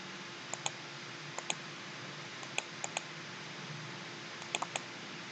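Sparse, quiet clicks of a computer keyboard as commands are typed into AutoCAD, short isolated keystrokes and small pairs spread unevenly over a faint steady background hum, with no voices.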